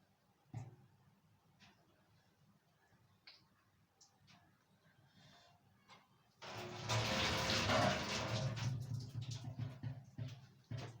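A tap runs at a steady, fairly loud gush for the last few seconds while someone washes their face in the morning, after quiet scattered clicks and small movements.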